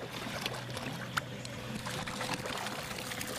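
Big waves wash and slap against a fishing boat out halibut fishing on San Francisco Bay: a steady, close, noisy churn of water with small splashes and knocks, and no voices.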